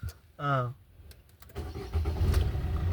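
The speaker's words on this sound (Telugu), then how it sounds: "ఒకసారి స్టార్ట్ చేద్దాం బండి" A used Maruti Ertiga's diesel engine cranks and catches, then settles into a low, steady running rumble, after a brief burst of speech at the start.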